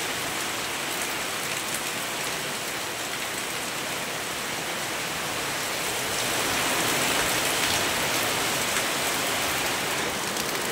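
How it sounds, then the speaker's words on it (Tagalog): Heavy rain pours down steadily, a dense continuous hiss of drops that swells slightly louder toward the end, with no voices. "bumuhos na naman yung malakas na ulan"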